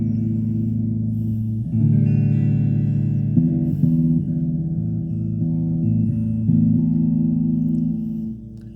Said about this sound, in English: Starts off with the delay, which you can increase.